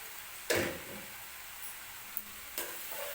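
Jaggery and coconut modak filling is stirred in a pan, a soft low sizzle with a couple of distinct scraping strokes of a spoon against the pan and small clicks, close and quiet, with no speech.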